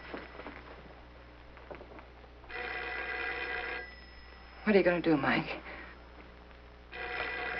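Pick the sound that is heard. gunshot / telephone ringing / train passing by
telephone ringing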